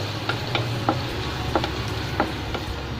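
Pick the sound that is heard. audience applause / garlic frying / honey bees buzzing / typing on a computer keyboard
garlic frying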